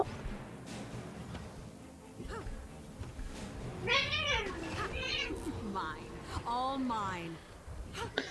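Two house cats squabble at close range, trading loud, drawn-out wavering meows and yowls in bursts, with someone talking over and between the cries.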